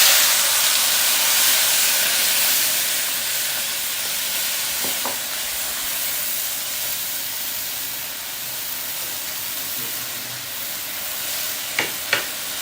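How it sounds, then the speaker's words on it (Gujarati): Soaked mung dal tips into hot oil tempering and sizzles with a steady, loud hiss that fades slightly over time, broken near the end by a few sharp clinks of a spoon against the pan. "હવે જે આ પલાળેલી દાળ છે એ ઉમેરી લેવાની છે."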